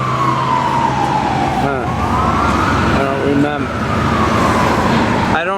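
Emergency vehicle sirens wailing on a Brooklyn street, a rising and falling tone sweeping up and down over traffic noise, with someone talking over it near the start.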